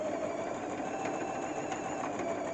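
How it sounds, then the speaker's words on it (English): Sewing machine stitching steadily through a padded cushion cover, a continuous close whirring drone with no pauses and no voices. "Carry on sewing."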